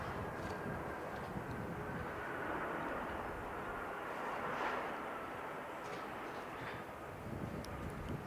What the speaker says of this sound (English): That's the Bombardier Global 6000, and it is a magnificent aircraft